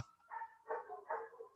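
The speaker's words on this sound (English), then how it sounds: "listen to them damn dogs" Dogs bark a few times in quick succession at a distance, faint and slightly muffled, without any voices over them.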